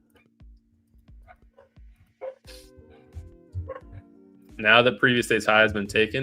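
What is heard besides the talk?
dog barking in the background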